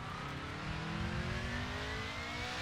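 A DTM race car accelerating at Mugello in a racing video game, its engine note climbing steadily and loud throughout, with no talk.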